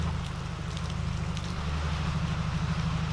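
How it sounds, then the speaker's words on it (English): Rain falls steadily on and around a 2019 Subaru WRX, a dense, constant hiss with a low rumble underneath, heard close and with no voices. "It wasn't supposed to rain at all today."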